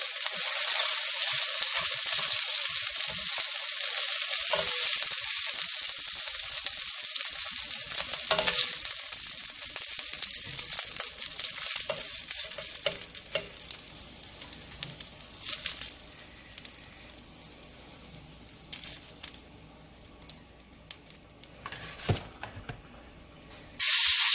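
Beef pieces sizzle and spit in a hot pan, cooked in batches, a loud steady frying hiss that runs throughout with occasional stirring clatter and crackling bursts, then fades slightly before a sharp sizzle at the end.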